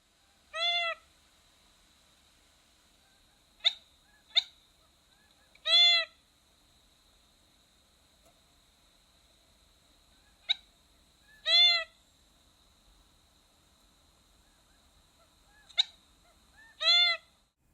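Gambel's quail give four clear, ringing, nasal calls spaced several seconds apart, mixed with a few short sharp clicks against a quiet background.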